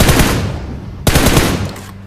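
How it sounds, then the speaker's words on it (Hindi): A grenade blast in a battle royale shooter game sets off a loud burst of gunfire-like cracks. A sharp second detonation follows about a second later, then rumbling reverberation fades at the end. "ग्रेनेड पहले ही फट गया।"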